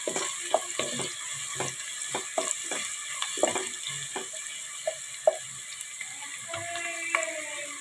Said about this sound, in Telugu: ఇంకొంచెం ఫ్రై అవ్వాలండి.